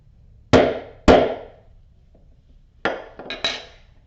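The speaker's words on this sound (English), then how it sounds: "Put the rivet through, lay the bag up on its end, set my washer on it, give it a little love tap." A hammer taps a metal rivet through a leather bag with a washer set on it, giving two sharp close knocks, a pause, then three quicker lighter taps, each ringing briefly against a quiet background.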